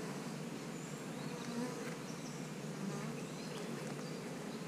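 Honeybees from a swarm buzzing around an open hive frame, a dense steady hum of many wings, faint and continuous with no talk.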